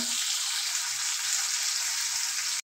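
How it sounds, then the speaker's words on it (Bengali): Hilsa fish frying in a pan gives a steady, loud, close sizzle with dense crackling spatter that holds evenly throughout and then cuts off abruptly at the end. "তো মাছটি ভাজা হতে থাক"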